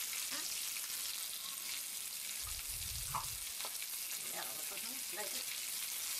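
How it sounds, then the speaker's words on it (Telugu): Cumin seeds frying in hot oil with curry leaves for a tomato and green chili chutney, a quiet even sizzle with a brief low rumble midway and faint scattered pops. "జీలకర్ర వేసి వేయించాలి."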